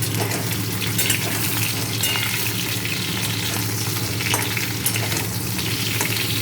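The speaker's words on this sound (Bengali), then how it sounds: "এবার ডাঁটা আলুটা একটু নেড়ে দিই।" Potato and drumstick stem pieces frying in a pan while being stirred, a loud steady sizzle broken by scraping strokes of a utensil, close and without talk.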